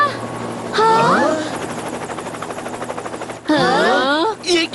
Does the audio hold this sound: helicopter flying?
yes